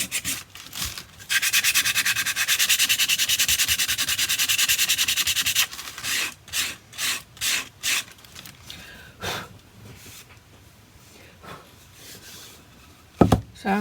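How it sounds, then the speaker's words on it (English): A wooden Christmas stocking holder coated with Mod Podge being hand sanded: a long continuous rasp of sandpaper, then a string of short rhythmic strokes, close and fairly loud, with a couple of knocks near the end and no talk. "then I just sand it a little bit"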